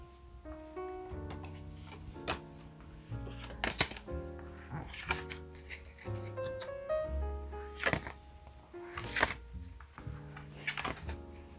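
Tarot cards are shuffled and drawn in soft, scattered rustles and light taps, set against steady background music with tonal notes throughout.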